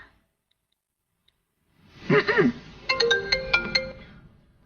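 After a quiet stretch and a brief murmur, a phone ringtone plays a short melody of bright electronic tones, close and clear.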